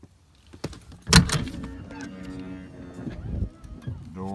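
A motorhome's automatic entry steps extend from the main entrance with a motor whir and a firm mechanical clunk, close by, as a person talks over the movement.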